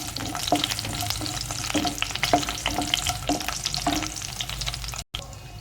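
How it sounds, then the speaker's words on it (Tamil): Fenugreek seeds and garlic cloves frying in hot oil for a brinjal kara kuzhambu, a continuous crackling sizzle broken by regular stirring scrapes of a spoon in the pan, with no voices. "வெந்தயம் கொஞ்சம் சவுண்டு வரும்போது பூண்டு போட்டுக்கோங்க ஒரு பத்து பல்லு பூண்டு"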